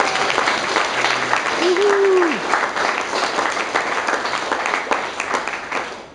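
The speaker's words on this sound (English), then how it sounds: "A little round of applause." A room full of wedding guests applauds steadily, dense clapping holding for several seconds with a brief whistle-like tone rising above the noise.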